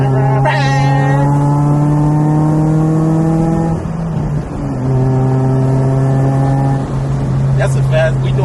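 A Honda Prelude engine drones loud and close from inside the cabin in fifth gear, a steady harmonic hum with a brief dip midway as it keeps cruising, with voices faintly underneath.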